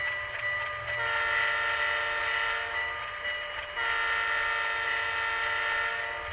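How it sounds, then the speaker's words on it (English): Model train locomotive horn from an Athearn or Rapido sound-equipped engine, two long sustained chord blasts with a brief break between, loud and close with no talking. "Let's listen to the horn."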